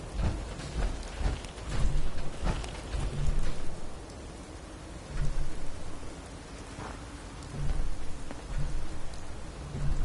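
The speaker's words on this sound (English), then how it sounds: "Hope this rain lets up soon." Rain in a video game, a steady hiss of falling drops with low rumbling swells that come and go, no voices present.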